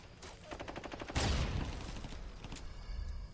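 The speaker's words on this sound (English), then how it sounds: "A little bit of small talk in the middle of gunfire." Gunfire in the 1940s crime game L.A. Noire, rapid bursts of automatic shots followed by a heavy blast and scattered later reports, loud and close.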